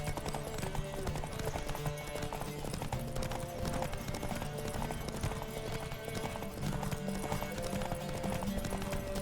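Horses galloping in The Witcher 3, fast continuous hoofbeats driving through under a loud game music score, no clear talk.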